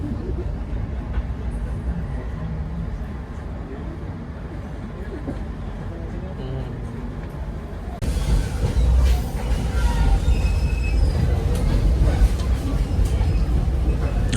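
Steady rumbling of a passenger train rolling along the rails past a depot at Semarang Poncol station, Indonesia, growing louder and rougher midway, with clattering wheel noise throughout.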